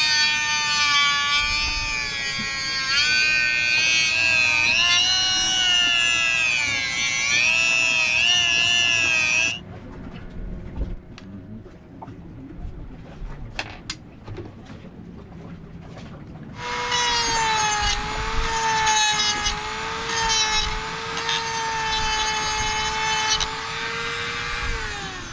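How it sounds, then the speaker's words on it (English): A bolt being trimmed to length with a power tool during a Doppler radar installation, a loud whining, harmonic cutting tone running steadily, stopping midway amid light clatter, then resuming with a steady pitch. "we're going to trim this bolt down to about 1 inch"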